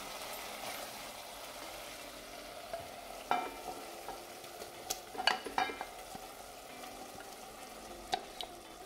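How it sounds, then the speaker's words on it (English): Marinated baby corn frying in hot oil in a pan, a steady soft sizzle throughout with a few sharper pops and crackles, close and alone without talk. "So in goes our marinated baby corn."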